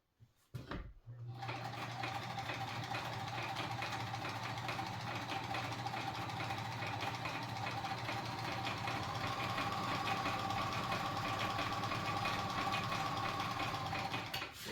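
A Kenmore 148.19370 sewing machine runs a zigzag reverse stitch, starting after a brief pause and then humming and rattling continuously at an even pace, close and steady with no speech over it.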